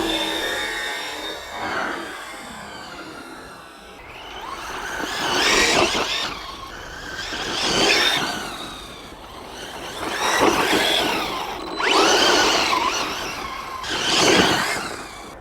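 An FTX RC truck with a hot electric motor, geared a little high, pushes through long grass in bursts, its whining motor surging loud roughly every two seconds and easing off between pushes.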